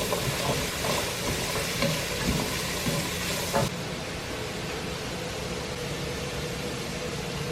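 Onions and carrots sauté in a pan with a steady, close sizzle and occasional stirring scrapes, the frying noise growing quieter partway through.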